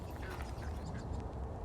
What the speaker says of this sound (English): A female Mallard duck glides by with her ducklings, moving gently through the water